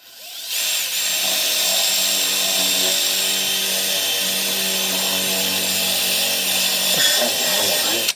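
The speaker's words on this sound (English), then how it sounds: "Drill holes, and you can use whatever size drill that you want to use." A power drill whines steadily for several seconds at close range, drilling holes in a Ski-Doo snowmobile part, its motor pitch holding constant before spinning down near the end.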